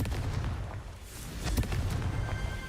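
Confringo, a blasting spell in Hogwarts Legacy, goes off as a rumbling explosion with a sharper boom midway, dense crackling debris and low roaring noise throughout.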